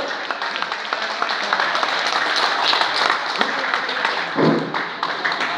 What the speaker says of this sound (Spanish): Palmas compañeras y compañeros.